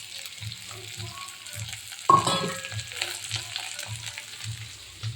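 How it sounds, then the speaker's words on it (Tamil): Chopped carrot and onion hit a hot pan of oil already crackling with mustard seeds, giving a sudden loud sizzle that settles into a steady frying hiss over faint low background noise. "இப்போ வாங்க வெங்காயத்தை தாளித்து விட்ருவோம்."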